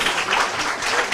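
Steady, loud applause fills a lecture hall at a literature talk, a continuous wash of many hands clapping with no voices over it.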